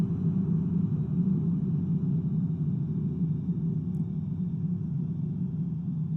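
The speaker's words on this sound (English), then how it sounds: "The reverse thrust plus the auto brake does the job." Deep, steady roar of reverse thrust from a PMDG 737 landing on a snowy runway in a flight simulator game, a continuous low rumble heard alone.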